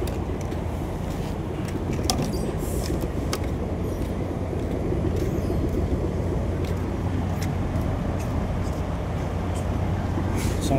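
A bus rumbles at Dangay Roxas Port at night, a steady low engine drone with continuous traffic noise, fairly loud and unbroken throughout, with faint voices in the background.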